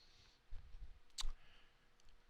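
A single sharp computer mouse click lands in an otherwise quiet room, faint and close, with no talking over it.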